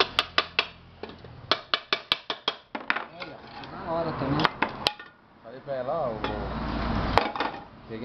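A metal pressure cooker clanks and knocks repeatedly as it is handled while its old handle is replaced, with sharp rhythmic taps followed by scraping and rattling, while a voice talks nearby.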